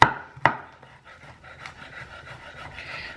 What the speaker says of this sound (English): we're just gonna give it a nice fine chop